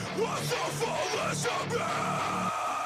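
A harsh, strained metalcore vocal scream holds over a few seconds, rough and sustained against a heavy musical backdrop.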